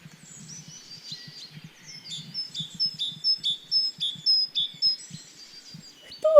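Recorded song of a titmouse: a run of bright, high repeated chirps in a quick rhythmic series, clear and fairly loud over a faint low murmur, ending with a louder lower note at the close.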